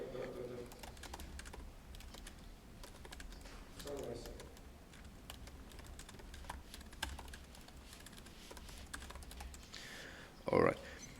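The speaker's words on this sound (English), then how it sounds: "I'm not good at typing and talking." Rapid clicking of a computer keyboard during website coding, a fast, continuous patter of keystrokes at close range, fairly quiet, with a brief burst of speech near the end.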